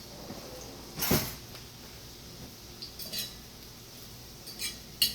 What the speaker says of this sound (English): I'm trying to turn this with a baby fork, which ain't working.